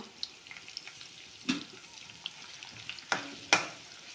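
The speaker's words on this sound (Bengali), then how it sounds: "তেল দিলাইছি হালকা বাদামি হইব যত পেঁয়াজ" Onions frying in oil in a pan, a soft low sizzle with scattered crackles and a few sharper spatters and stirring clicks, close by, no talking.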